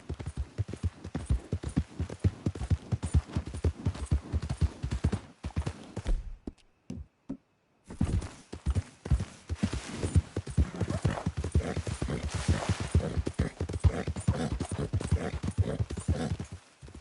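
Steady clip-clop of horse hooves in the Red Dead video game, close and rhythmic, briefly dropping out to near silence partway before the hoofbeats resume at the same pace.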